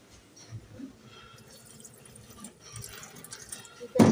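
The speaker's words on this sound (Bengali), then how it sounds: "চলো চালটা ধুয়ে নিই" Rice is rinsed under a running kitchen tap, with a soft continuous trickle, some splashing and a louder gush of water near the end. There is no talk.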